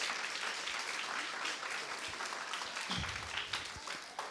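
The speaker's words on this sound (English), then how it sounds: "Please give them a round of applause." Steady applause from a crowd, dense and continuous clapping throughout at moderate volume, with a few faint voices mixed in.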